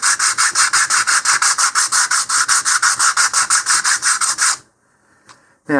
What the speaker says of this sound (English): just by hand holding and sanding this